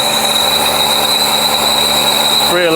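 A 39-year-old Ford truck engine, just repaired after a crank-no-start fault and running without its air filter box, roars loudly and steadily up close with a high whine over the rumble.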